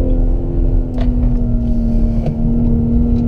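A BMW engine on a performance-center track drones loudly at full throttle as a steady, sustained hum with a strong low tone and slight fluctuations, close and alone without talking.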